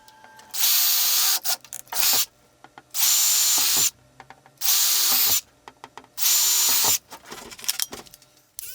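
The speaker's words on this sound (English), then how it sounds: "I drilled 4 holes at the corners and used the oscillating multi-tool to cut out a window." A power drill boring holes in a clear enclosure panel, four separate high-pitched whining bursts of about a second each, close and loud, with short pauses and handling noises between them.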